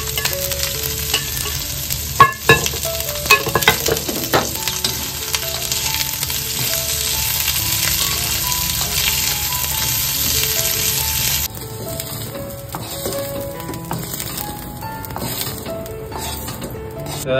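Onion sizzling in hot oil in a pan for a spicy crab masala, with steady frying hiss and repeated sharp clinks and scrapes of a stirring spoon against the pan, close up and without talk.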